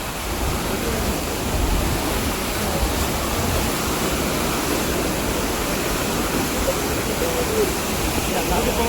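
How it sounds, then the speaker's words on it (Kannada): River water near Kottiyoor temple in Kannur, Kerala, rushes steadily in a continuous, loud wash of flowing water with no clear breaks. "ನದಿ ನೀರು."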